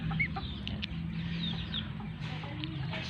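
Young gamecock stags on a farm clucking softly and intermittently nearby over a steady low background hum, with no talk.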